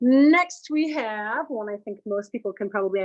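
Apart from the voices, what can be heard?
No everyday noises stand out.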